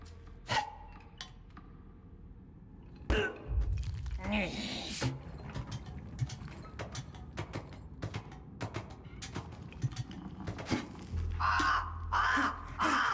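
In the video game Gollum, a crow caws several times, its harsh calls sharp and repeated over a quiet ambient background, with rustling, breathy gasps and a low rumble late on.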